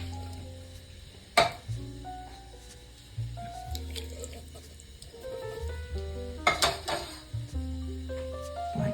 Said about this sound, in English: I'm adding the tomato, and I did not drain the tomato.